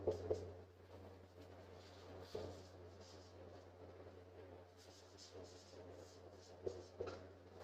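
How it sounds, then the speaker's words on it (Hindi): Chalk or marker scratching across a classroom board during a Class 10 chemistry lesson, a soft steady scraping with a few louder strokes, faint against a low constant hum. "मैं लिख रहा हूं"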